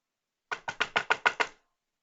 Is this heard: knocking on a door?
yes